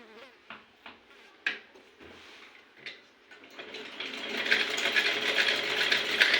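A sewing machine stitching clothes, starting with scattered clicks and ticks, then running in a fast continuous mechanical whir that grows louder and fills the last few seconds.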